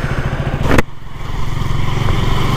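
A KTM RC 200 motorcycle engine drones steadily while being ridden, a loud continuous rumble with a brief sharp burst near the start, with no one speaking.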